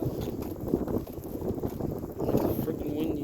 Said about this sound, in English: Freaking windy night.